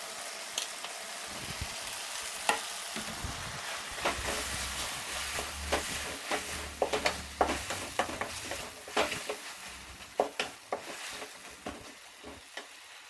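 Tomato, garlic and ginger fry in a pan, giving a steady low sizzle with repeated scraping clicks and knocks as a utensil stirs, close by with no talking.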